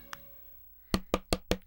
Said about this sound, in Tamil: ஏகே, கதவு திறங்க